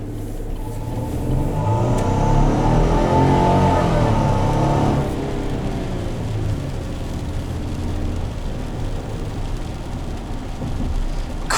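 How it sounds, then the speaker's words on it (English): A 2020 Chevrolet Silverado 1500 pickup with a V6 revs up hard and accelerates, its engine note climbing strongly over the first five seconds and then settling into a steady loud drone with road noise. "Great acceleration from this truck."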